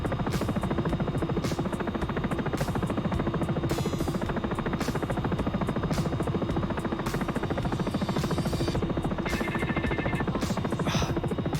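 A Sikorsky S76 helicopter in the X-Plane 11 flight simulator chops steadily, with rapid rhythmic rotor thumping under a continuous engine buzz and a few brief tonal beeps, loud and close.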